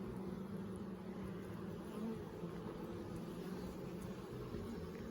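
Bees buzzing at an opened beehive during an inspection, a continuous, dense, faint hum of many insects with no breaks.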